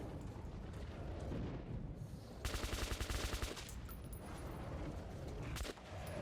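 Gunfire in a Metro video game played on a Steam Deck, a loud burst of rapid automatic shots lasting about a second amid rumbling game noise and background effects.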